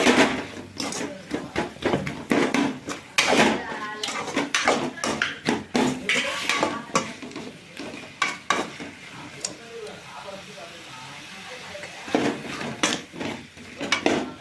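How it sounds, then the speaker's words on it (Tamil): Potatoes being sautéed in a pan for a crispy Tamil-style potato fry, with repeated scraping and stirring clatter of a utensil against the pan over a soft sizzle, steady throughout. "பாருங்க, ஃபுல்லாக வதக்கிட்டு இருக்கோம்."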